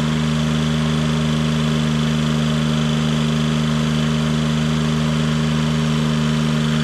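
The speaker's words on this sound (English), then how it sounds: "Hear the engine key up on it." Steady engine of a CMC 92HD spider lift being unloaded from a trailer, a continuous loud drone with strong low hum and no clear rise in pitch, running alone.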